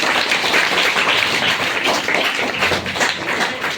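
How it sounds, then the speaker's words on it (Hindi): Children applauding at a child-marriage awareness event in Jamui, a steady, dense patter of many hands clapping together throughout, fairly loud and close. "इसके लिए तालियां बजनी चाहिए।"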